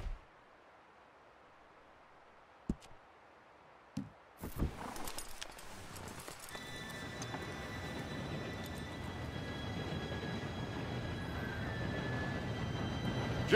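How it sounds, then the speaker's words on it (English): A train in the Western video game Red Dead Redemption 2 approaches, starting with a few sharp knocks and thuds, then swelling into a growing rumbling roar with a sustained whistle-like tone. "Train should be here any minute now."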